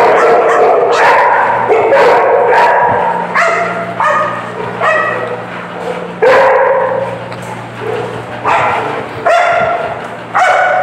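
Several dogs at a kennel, including Saint Bernards, bark and yip in repeated overlapping bursts, close and loud, with some whimpering and a steady low hum underneath.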